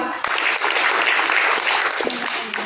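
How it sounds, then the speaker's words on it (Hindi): Loud, sustained applause from a crowd, dense clapping filling the whole stretch with a few sharper claps near the end. "आपके लिए जोरदार तालियां"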